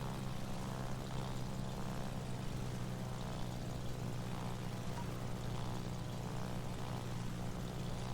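Steady propeller drone of bomber aircraft in World of Warships, a continuous low hum with broadband wash holding evenly throughout, no talk.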